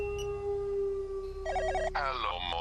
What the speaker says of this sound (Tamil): ஒரு நிமிஷம் அப்படி ஃபோன் அடிக்கிட்டு